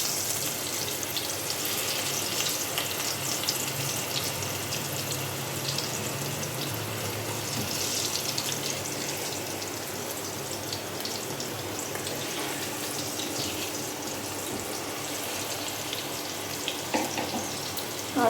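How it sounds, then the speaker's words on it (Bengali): Potatoes fry in a pan with a continuous, even sizzle and hiss that holds steady at close range throughout, with no talking over it. "দেখো আলুটা ভাজতে বসিয়ে দিয়েছি, আলুটা প্রায় ভাজা হয়ে গেছে আমার।"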